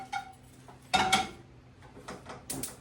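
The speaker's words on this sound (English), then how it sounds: "I'm going to stir it around, y'all. And I'm going to cook this on the stove for about 1 minute over here on the stove top" Corn stirred in a skillet on a stovetop: scattered metallic scrapes and clinks of a utensil against the pan, one louder cluster near the start of the second and softer strokes after, close with no talking.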